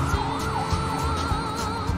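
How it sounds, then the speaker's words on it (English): A wailing ambulance siren sweeps up and down over the steady hum of road noise, heard from inside a moving vehicle. "An ambulance is coming up behind us."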